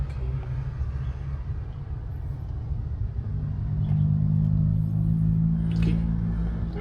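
A Shantui L58B3 wheel loader's diesel engine runs at a steady low rumble close by, the drone growing slightly louder and fuller partway through.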